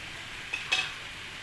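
Hot oil spattering as cloves and cardamom fry in a pan, a steady faint sizzle with two brief louder pops partway through.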